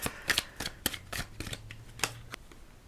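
Tarot cards being shuffled and pulled during a reading, a series of close, sharp riffling snaps in an uneven rhythm, quiet overall.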